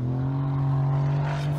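A Porsche biturbo accelerates with its exhaust valves open, giving a loud, steady engine drone that climbs slightly in pitch, heard close up with no talk.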